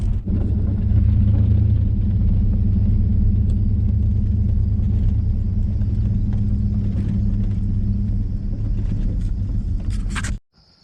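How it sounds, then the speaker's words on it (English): A vehicle drives toward a beehive, its engine a steady loud low rumble that holds for about ten seconds before cutting out abruptly. "So we're gonna drive back here and check it out, see what's going on."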